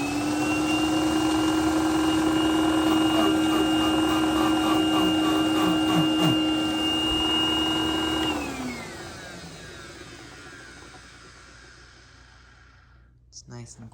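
A Dyson DC01 upright vacuum cleaner motor whines steadily at high pitch with the brush roll spinning, then winds down and fades as it is switched off, ending with a few faint clicks.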